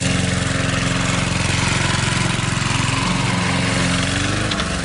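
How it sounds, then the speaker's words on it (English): A lawn mower engine runs loudly and close, a steady rumbling drone with a slight dip in pitch toward the end, filling the whole clip with no voices over it. "all I could hear was a lawnmower."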